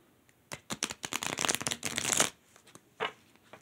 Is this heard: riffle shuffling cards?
yes